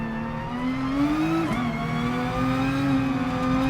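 A racing car engine from GT Sport whines at high revs and holds a steady tone with slight rises and dips, close and continuous, with no talking.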